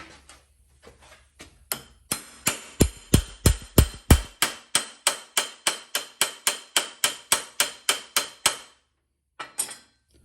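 A run of sharp, evenly spaced hammer strikes on metal square tubing, about twenty blows in steady rhythm, close and ringing, followed by a pause and two final taps.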